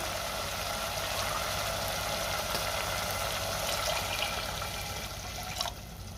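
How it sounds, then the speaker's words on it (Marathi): A continuous stream of water poured into a curry, a steady splashing trickle that runs evenly for several seconds with no talking. "आता आपल्याला पाणी घालायचं"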